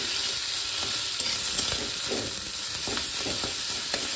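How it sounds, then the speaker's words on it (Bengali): Chicken pieces fry and get stirred in a pan of hot mustard oil, a steady close sizzle with scraping stir strokes scattered throughout and no talking. "একটু করে সরষের তেল দিয়েছি, আর এর মধ্যে চিকেনটা দিয়ে দেবো"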